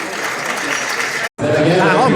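Applause from the audience at a Taiwanese and Hong Kong community Lantern Festival dinner in Toronto, a dense patter of clapping that cuts out briefly and then resumes, with some chatter mixed in.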